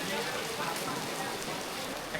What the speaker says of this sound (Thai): เกิดเหตุการณ์ไม่คาดคิดฝนตก